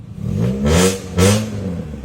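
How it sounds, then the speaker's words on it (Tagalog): A car with a clean fuel-injected engine revs hard twice, each throttle blip rising into a loud roar and falling back to a steady idle, close up with no talking. "Bobombahin ko na sa inyo mga bossing."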